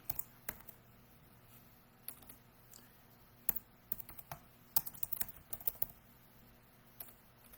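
Fingers tap on a computer keyboard at a live morning chat show, in short irregular bursts of close, crisp key clicks with brief pauses and no talking.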